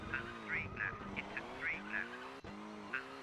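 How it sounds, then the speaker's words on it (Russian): A rally car in Colin McRae Rally 2.0 slides on a rain-soaked Italian road, its engine droning steadily while repeated short tire-skid hisses break through, and someone talks over it. "Машина просто скользит"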